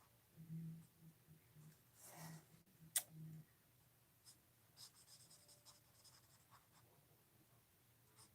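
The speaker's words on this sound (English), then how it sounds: "we're going to color the hat in" Colored pencils scratching on paper while coloring in a paper pumpkin hat, faint soft strokes in short irregular bursts, with an occasional tap or click.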